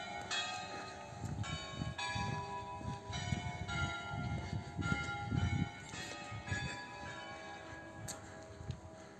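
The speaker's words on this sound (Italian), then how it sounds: "E le campane sono finite" Church bells ring out repeatedly at 8 pm, overlapping metallic strikes with long, shimmering decays, steady and fairly close over a low background rumble.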